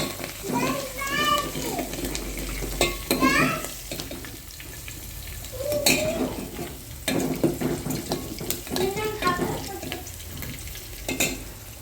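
Garlic drops into hot oil for drumstick sambar, crackling and sizzling steadily in a home kitchen. Someone talks over it in bursts, with clinks of a utensil against the pan.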